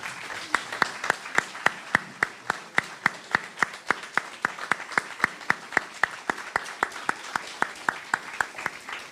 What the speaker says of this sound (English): I want to give y'all a round of applause.